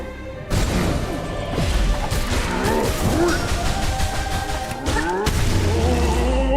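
A chandelier falls and crashes in the video game Hollow Knight Silksong, a loud smash after a sudden onset, followed by sustained clattering, booming game effects and a heavy low rumble near the end.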